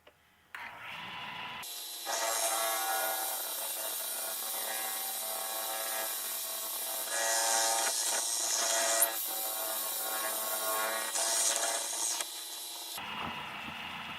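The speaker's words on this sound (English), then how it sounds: "drilling this wood, it's kind of weird" A power drill whines steadily through wood for several seconds, its pitch shifting slightly as it bites deeper, then stops abruptly.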